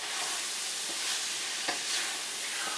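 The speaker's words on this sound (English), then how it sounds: "I'm going to put the tomato paste in and let it start coating." Tomato paste sizzles and fries in a pot for turkey chili, a steady close hiss with a few soft scraping stirs of a spoon at intervals.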